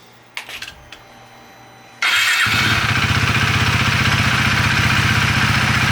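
A 2018 KTM 390 Duke motorcycle engine cranks and catches after a few light clicks, then settles into a loud, steady idle with a fast even pulse that carries to the end.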